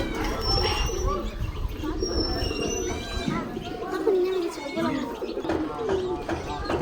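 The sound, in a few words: homing pigeon cooing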